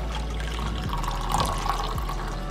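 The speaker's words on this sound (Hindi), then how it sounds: "अब इसमें मैं डाल दूंगी 1/2 कप गर्म पानी" Half a cup of hot water poured into a glass holding a pinch of roasted cumin powder, a steady close-up stream of liquid with a rising fill tone, continuous and fairly loud.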